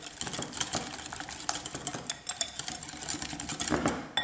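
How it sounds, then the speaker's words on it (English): Whisking lemon juice into a homemade Caesar dressing in a bowl, giving a run of quick, light metallic clinks and scrapes at a steady rapid rhythm, close and fairly quiet. "I'm going to whisk this all together."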